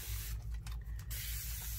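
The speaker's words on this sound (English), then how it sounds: "let's spray." A spray bottle squirts during gelli printing: two or three quick, close hissing bursts over a low steady hum, with no talk.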